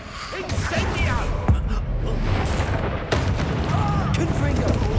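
Spell explosions in Hogwarts Legacy, heavy booming blasts and crackling magical impacts layered densely over a dull rumble, loud and continuous.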